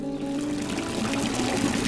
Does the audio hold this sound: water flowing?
yes